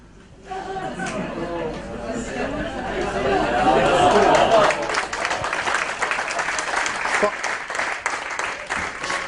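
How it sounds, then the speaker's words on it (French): An audience at a conference breaks into applause that swells and then sustains, with crowd chatter and voices mixed in. "Je ne pensais pas avoir des applaudissements sur ce sujet-là."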